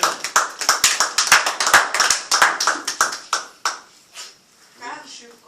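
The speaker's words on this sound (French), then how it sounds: "Acclamons pour la parole." A church congregation applauds during a service, with a dense burst of many hands clapping fast and loud that thins out and fades to a few scattered claps at the end.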